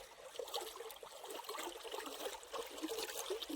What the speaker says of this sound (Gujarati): ફાઇનલી મિત્રો આપણે પંપમાં દવા નાખવી છે